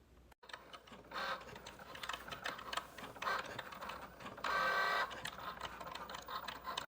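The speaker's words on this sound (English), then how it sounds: "while that one is cutting," A Cricut Joy cutting machine slices heat transfer vinyl on a mat, giving a steady mechanical whir with shifting motor tones and brief louder passes, heard alone and fairly quiet.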